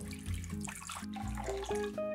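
Water poured into a pot for making dashi, a short splashing pour with bubbling, rising gurgles that shift in pitch as the vessel fills.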